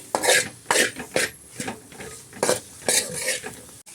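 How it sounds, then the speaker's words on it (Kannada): Soya masala fries in oil in a pan while a metal spoon stirs and scrapes, giving a run of clinking strokes at an uneven rhythm over a soft sizzle, up close and with no talk. "ಇದನ್ನು ಚೆನ್ನಾಗಿ ಫ್ರೈ ಮಾಡ್ಕೊಳ್ತೀನಿ."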